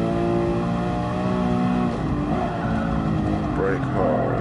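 A classic dream car in GT Sport on the Nurburgring revs hard with a loud continuous engine drone, with some faint crackling pops from the exhaust. Someone talks over it.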